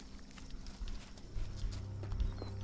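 Horse hooves clip-clop in the video game Sherlock Holmes: The Awakened, with a few uneven steps over a low rumble and no talking.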